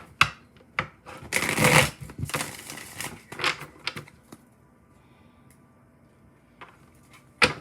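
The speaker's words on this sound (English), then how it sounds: "just want a couple of tarot cards, just confirm" Tarot cards being shuffled up close, a run of dense papery riffles and flutters with a loud burst early on, then scattered soft card taps and a final snap, no voices.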